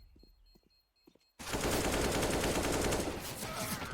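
Rapid bursts of AK rifle fire in Counter-Strike: Global Offensive during a competitive match, starting abruptly after quiet and continuing loud and dense, with sustained automatic shots layered over one another.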